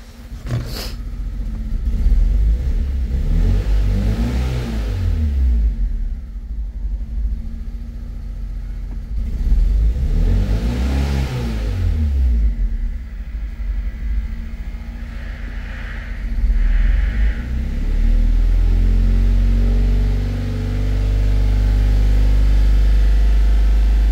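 A Fiat Punto 1.2 petrol engine with a blinking engine warning light and a juddering fault, rumbling at idle and revving in two slow swells that rise and fall, then settling into a steady, loud drone.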